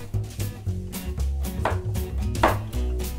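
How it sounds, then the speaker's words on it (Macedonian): A large carrot is sliced into rounds on a cutting board for homemade broth, giving a steady run of about a dozen close, crisp knife chops over a low background hum. "Еден голем морков на крукчиња."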